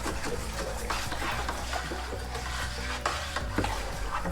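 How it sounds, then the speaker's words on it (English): A mixture being stirred gently with a plastic wand, giving a continuous soft swishing and faint scraping against the container, close by and steady for a few seconds without voices. "I'm just gonna give this a gentle stir with this plastic wand."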